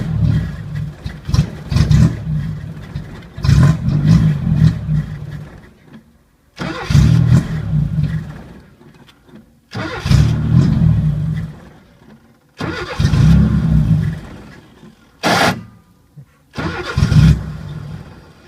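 A car engine with a faulty carburetor cranks and catches again and again, five or six loud bursts of starter whir and brief sputtering running that die out between attempts, close up with no talk.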